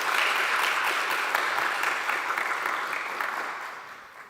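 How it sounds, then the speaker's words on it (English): Sustained audience applause fills a main auditorium at a European internet governance conference, steady dense clapping that gradually fades toward the end, with no voices over it. "This applause goes to all of you."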